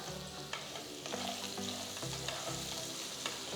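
Half-cooked potatoes with salt and turmeric sizzle in a pan while being stirred, a steady frying hiss with rhythmic scraping strokes of the spoon, close and clear.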